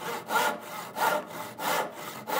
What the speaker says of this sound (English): You start the saw on a forward stroke, not a back stroke.